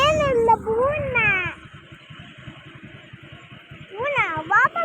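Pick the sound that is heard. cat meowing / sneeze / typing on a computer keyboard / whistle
cat meowing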